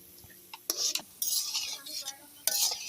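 Flattened rice (chira) sweets fry in a pan as a spatula scrapes and turns them, with sharp metallic clinks and bursts of sizzling hiss between quieter moments.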